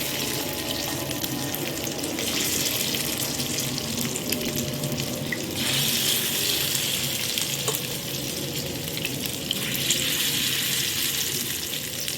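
Tap water runs into a kitchen sink while ingredients for chili chicken are rinsed. A steady, close splashing stream carries on without a break, and its texture shifts as the food is moved under it. No one talks.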